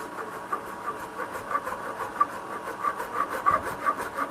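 Hand saw cutting through a hard knot in wood during bunk bed rail woodworking, steady rhythmic rasping strokes at close range, each push and pull scraping evenly with no talk.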